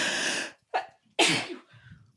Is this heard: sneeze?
yes